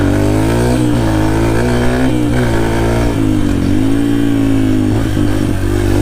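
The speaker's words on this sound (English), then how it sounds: "Haven't been able to do wheelies on the dirt bike yet" Dirt bike engine on a motocross track, loud and close, holding a steady buzzing drone with repeated rev swells and dips throughout, with no talk over it.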